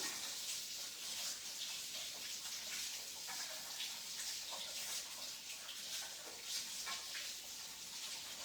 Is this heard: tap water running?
yes